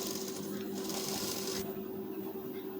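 A sewing machine runs a long basting stitch along the lining of a lined blouse, giving a steady, continuous mechanical hum at close range while someone speaks over it.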